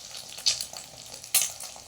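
An egg fries in hot oil, puffing up in the pan with a soft, continuous crackle and two sharp, loud bursts of sizzling spatter about a second apart, close by.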